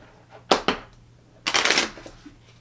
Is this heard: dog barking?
no